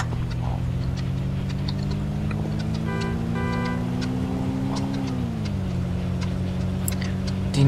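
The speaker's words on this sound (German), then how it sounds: "unser Auto hört sich echt gut an" Car engine in the video game State of Decay runs steadily with a droning hum, its pitch climbing gradually then dropping as the car shifts, with faint clicks and ticks over the top.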